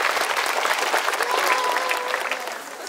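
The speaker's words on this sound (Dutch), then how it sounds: "Groot applaus voor Gerda nog een keer." Audience applause rings out at an outdoor bridal fashion show at a summer fair, a steady dense clapping from a crowd lasting throughout, with faint voices mixed underneath.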